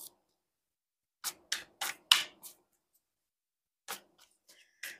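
Tarot cards being drawn and handled, a handful of separate crisp, papery flicks and snaps in a quiet room, spaced irregularly with pauses between them, no one speaking.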